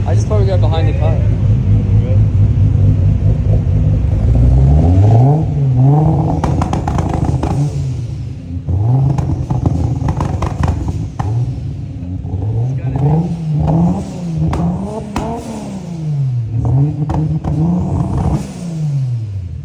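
A 550 hp Nissan R34 engine, freshly built and just started, idles loudly then is revved repeatedly in sharp rising-and-falling blips, close by, with people talking over it.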